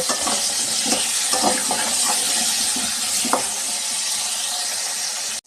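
Potatoes sizzle steadily in hot oil, a continuous loud hiss with occasional scrapes and clinks from stirring.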